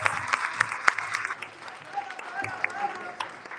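Applause from an audience at a live community event, a moderate wash of clapping with a few sharper claps standing out and voices mixed in underneath.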